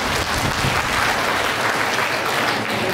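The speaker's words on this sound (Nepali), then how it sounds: "विद्वान दर्शकले आफै ताली पड्काउनु पर्छ।" An audience at a comedy event breaks into dense, continuous applause, loud and close for the full few seconds.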